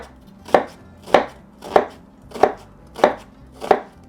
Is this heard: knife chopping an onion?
yes